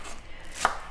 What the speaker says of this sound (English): the white parts of the green onions